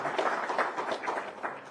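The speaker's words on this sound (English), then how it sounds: "Give her a round of applause," Applause from a conference audience at a national security strategy meeting at a Washington think tank, a steady wash of clapping held at moderate level through the whole moment.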